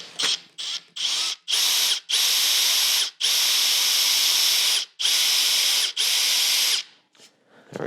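A power drill whines loudly in several bursts, starting and stopping repeatedly, with a long steady run in the middle as it bores at an angle into a wooden guitar neck.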